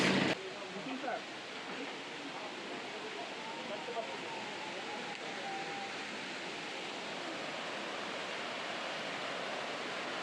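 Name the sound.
waterfall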